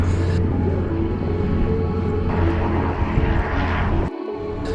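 A steady propeller engine of a Piper Cherokee light aircraft drones continuously, loud and close, with a constant rumbling hum that cuts out near the end.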